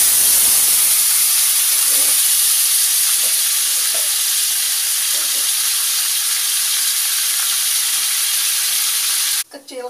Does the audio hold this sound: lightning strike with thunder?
no